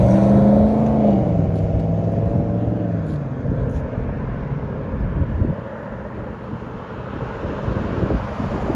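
A 2022 Ram 1500 Eclipse Edition with a 6-inch lift and a 5.7L HEMI V8 exhaust, running a Black Widow muffler in the middle with the rear resonators and stock tips kept. A loud rev with falling tones gives way to a steady rumble under heavy wind noise.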